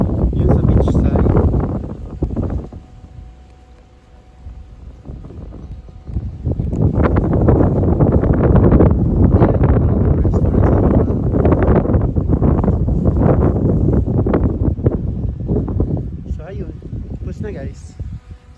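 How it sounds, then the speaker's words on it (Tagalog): Strong wind buffets the microphone at a beachside swimming pool of a Lanzarote resort in the Canary Islands, roaring in loud sustained gusts with a brief lull partway through. "Lakas ng hangin."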